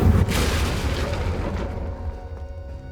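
A fiery Confringo spell explosion from the game Hogwarts Legacy: a loud, close boom that bursts at once, then rumbles and fades over a few seconds, with no voices.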